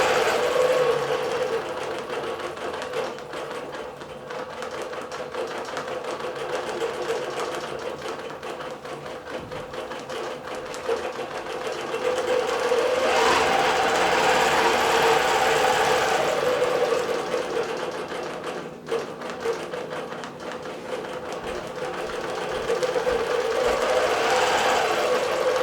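A computerized quilting machine stitching through a charity quilt, its rapid needle chatter running as a continuous mechanical hum that swells louder and softens again over the length, close by with no talk.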